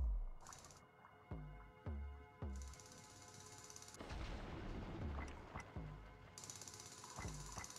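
A series of heavy booms from explosive detonations in the mining game Manic Miners, each a sharp thud with a rumbling tail, arriving at irregular intervals over a low electronic hum.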